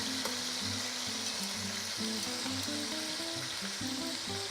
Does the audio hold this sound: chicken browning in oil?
yes